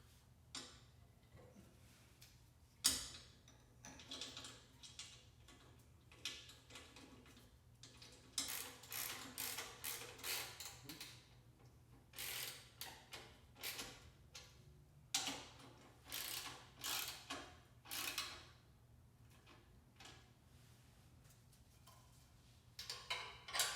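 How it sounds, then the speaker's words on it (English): Bolts being fitted and tightened on the clamp of a Tab Performance 50 cal slip-on motorcycle exhaust, with quiet clicking ratchet strokes in irregular bursts, close by and without talk. "before I tighten this clamp, I'm going to put the bolts in"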